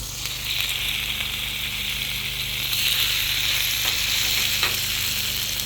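Hamburger buns toast on a hot Blackstone griddle beside sweet heat sloppy joe meat, giving a steady close sizzle and frying hiss throughout with a slight swell partway through, and no talking.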